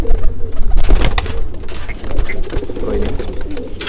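Domestic pigeons at a home flock cooing low and steadily, with soft rumbling coos layered over a busy, noisy background throughout.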